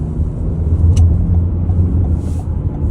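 A car rolls through an underground tunnel in Chicago onto the 290 highway, a loud steady road rumble with deep engine drone filling the enclosed space.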